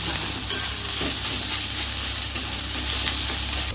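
A shrimp and pointed gourd mixture being stir-fried for potoler dorma gives a continuous close sizzle with repeated scraping strokes and a few sharp clinks of the spatula against the pan.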